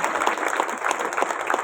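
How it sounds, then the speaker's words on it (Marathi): An audience claps at the Kunkavale Temwadi Samajseva Sangh 75th anniversary ceremony in 2025. Dense, lively applause fills the hall at close range throughout. "जोरात टाळ्या वाजवा."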